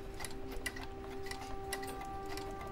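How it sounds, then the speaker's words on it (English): A clock in a puzzle video game ticks steadily and faintly, with regular sharp clicks over a quiet electronic hum, without any voices. "There's a clock here, but I can't like interact with it."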